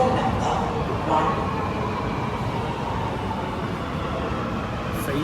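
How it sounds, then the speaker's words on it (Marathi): A train pulls in at a station platform while a station announcement plays, its steady low rumble and rolling noise filling the scene loudly and continuously, with a faint voice in the background. "ट्रेन आली आहे, ट्रेन ती बघा."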